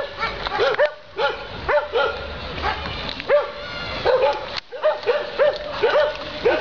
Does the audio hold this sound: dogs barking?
yes